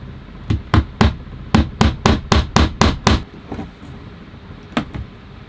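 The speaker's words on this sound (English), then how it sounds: "if I just hammer into this, it might just like split the cladding" Hammer blows drive a nail into hollow-backed wall cladding, about nine sharp strikes in a quick steady run, close and loud, then a pause and two lighter taps.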